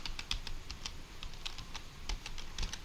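Keystrokes on a computer keyboard come in quick, irregular bursts of light clicks, quiet and close, with short pauses between runs of typing.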